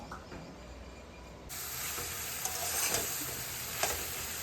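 Pumpkin shoot greens stir-fry in a hot pan for a curry, a steady sizzling hiss that jumps louder partway through, with faint scraping, close and alone without talk.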